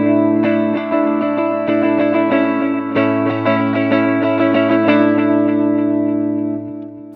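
A clean electric guitar on its neck pickup, a PRS SE Soapbar II Maple, plays sustained, ringing chords with a warm, rounded tone and a touch of chorus shimmer, strummed in a steady rhythm.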